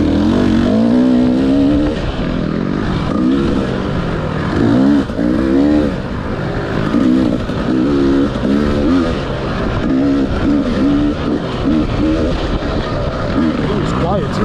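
GasGas TX300 two-stroke dirt bike from 2020 revs continuously through changing throttle, its buzzy engine note rising and falling close by throughout.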